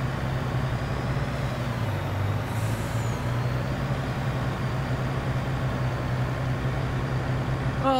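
A truck drives along in Farming Simulator 22 near its 49–50 mph top speed, giving a steady, loud engine drone with rumbling road noise throughout.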